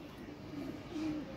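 A breeder pair of pigeons, with a Teddy-cross male, gives soft, low cooing that stays faint and steady against a quiet room hush.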